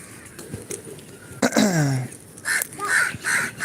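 A crow caws several times nearby while being fed biscuits on a rainy day, harsh calls rising in short bursts over a quiet background.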